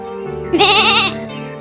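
A single goat bleats once in a cartoon, a loud wavering call of about half a second that rises over a low background tone.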